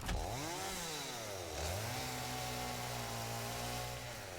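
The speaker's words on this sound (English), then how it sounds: "Let's get out the chainsaw." A chainsaw in the video game Satisfactory revs up, dips, then holds a loud, steady buzzing drone for several seconds, with no voices over it.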